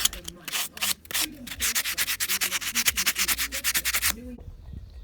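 Hand buffing of a small metal trinket dish with nail buffing blocks, a rapid run of rhythmic scratchy rubbing strokes, loud and close, that speeds into steady back-and-forth passes and then stops abruptly.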